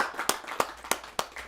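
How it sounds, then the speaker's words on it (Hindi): At a Hindi poetry gathering, sharp, evenly spaced claps ring out about three times a second, close and distinct rather than a full applause wash. "एक जोरदार तालियों से मैं आमंत्रित करता हूं आभा झा"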